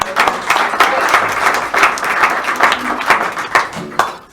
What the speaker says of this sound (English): Big round of applause for Tim.